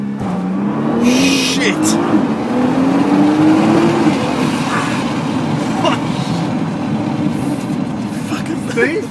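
A car engine held at about 4,000 rpm and then launched, a loud rising engine drone and a strained, continuous roar with brief higher squeals, and a voice exclaiming over it.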